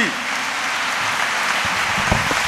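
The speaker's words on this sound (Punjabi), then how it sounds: "ਜ਼ੋਰਦਾਰ ਤਾੜੀਆਂ ਦੇ ਨਾਲ ਅਸੀਂ" A church congregation claps continuously to welcome a newly ordained priest at his first Holy Mass, a dense, steady wash of applause with a few voices mixed in.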